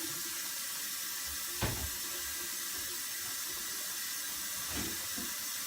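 Tap water runs steadily into a gallon container, a soft continuous hiss and splash heard fairly faintly, with a couple of brief knocks along the way.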